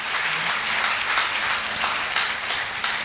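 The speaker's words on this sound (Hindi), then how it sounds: "मैं चाहूंगा ऐसे सेफ शॉप इंडस्ट्री के लिए एक जबरदस्त तालियां होनी चाहिए।" Audience applause at a Safeshop industry gathering, a thick continuous burst of many people clapping at an even level, with no talk over it.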